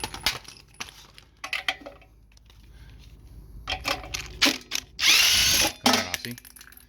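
A ratchet with a 1 1/8 socket works the wheel lug nuts on an RV, giving intermittent close bursts of rapid clicking separated by quiet gaps, with one longer, louder whirring stretch.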